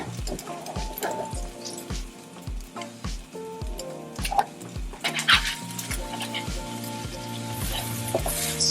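An egg cooking in a pan alongside bacon, a soft sizzle under a regular rhythmic thumping beat of background music, with occasional clinks of utensils.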